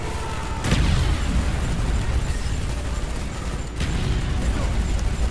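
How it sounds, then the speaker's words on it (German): Explosions in the Call of Duty Black Ops video game, two sharp booming blasts over a dense rumbling wash of gunfire and game noise, loud and continuous throughout. "Überall Explosionen."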